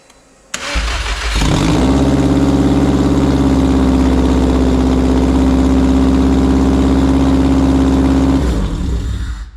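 A freshly rebuilt Subaru engine with no wastegate fitted and the downpipe only partly attached cranks, fires and settles into a loud, steady, raspy idle up close before shutting off.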